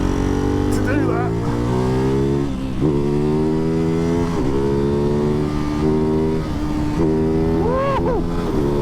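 A Ducati Hypermotard 698 Mono single-cylinder motorcycle with a Termignoni exhaust, ridden on wet roads, revs loudly and close with repeated rising and falling throttle blips.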